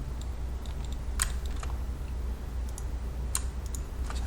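Keys on a computer keyboard are pressed in a few sparse, quiet clicks, singly and in small clusters, over a low background hum during 3D modelling work in Blender.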